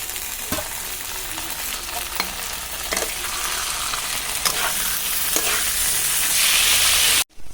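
Boiled banana flower hits spiced potatoes in a hot pan, giving a loud continuous sizzle with repeated scraping stir strokes, close up and unbroken until a brief cut near the end; no voices.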